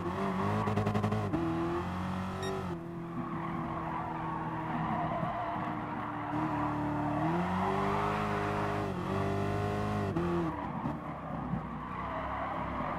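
A safety car in Gran Turismo Sport brakes hard and skids, its tires squealing loudly over a steady engine drone that rises and falls in pitch, continuous and close with no pauses.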